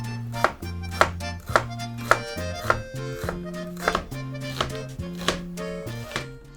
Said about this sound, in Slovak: teraz cibulu nebudem krájať takto, ako sa bežne krája, ale budem ju vlastne krájať